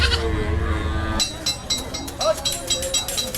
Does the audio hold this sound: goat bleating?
yes